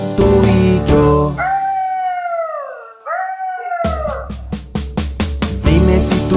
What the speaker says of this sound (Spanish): Dime si tú sabes cómo hace el coyote.